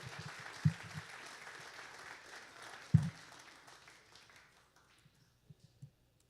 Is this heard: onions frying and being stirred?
no